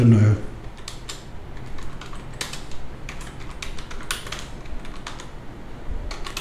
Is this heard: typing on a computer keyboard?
yes